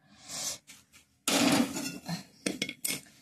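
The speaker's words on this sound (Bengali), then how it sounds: "এবার আমি তরকারিটা নামিয়ে দেব, গ্যাসটা বন্ধ করে নেব।" A pot of soybean, potato and pointed gourd curry is lifted off a gas stove, with a run of metallic clanks and scrapes of cookware, one loud sustained clatter, then several quick knocks, close and with no talk.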